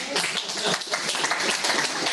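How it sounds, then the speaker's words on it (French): An audience at a collaboration session applauds, dense continuous clapping from a room full of people, fairly loud and steady throughout. "on vous applaudit quand même"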